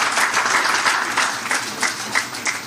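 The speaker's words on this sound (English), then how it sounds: "Please give him a round of applause." An audience at the commissioning ceremony for a new Lagos airport terminal gives a steady round of applause, dense clapping that keeps going and thins slightly toward the end.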